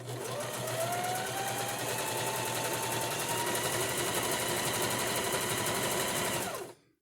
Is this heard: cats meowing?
no